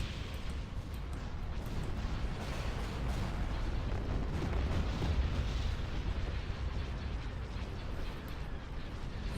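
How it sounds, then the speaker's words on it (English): Continuous dense rumbling blasts and bursts of explosions from laser cannons in the Star Wars game Empire at War, a steady roaring barrage with no talking. "Open fire on those laser cannons."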